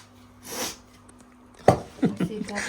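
Chili fumes from hot tempering for paneer chilli in a home kitchen set off a breathy sneeze, then several short, sharp coughs close by.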